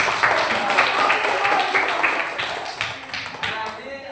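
A classroom audience of students claps for a student group after a pineapple jam-making activity, a dense stretch of many hands clapping that slowly fades, with voices mixed in.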